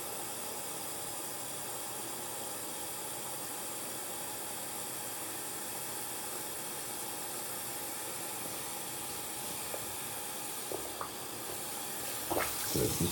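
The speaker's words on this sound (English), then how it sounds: "Let it fill up with water." A GP-5 gas mask fills with water in a sink, the faucet giving a long, even hiss of running water, with a few brief clunks and splashes near the end.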